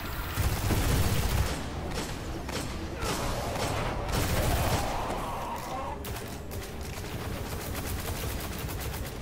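Gunfire in the video game Destiny: Rise of Iron, a dense, loud barrage of rapid shots and booming impacts layered over constant game noise, with no talking.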